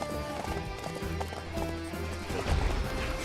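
A horse in a video game trots along with rhythmic clip-clopping hooves, close and steady, with a louder burst of hoofbeats near the end and some game sounds around it.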